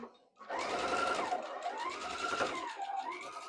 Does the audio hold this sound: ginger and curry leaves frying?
no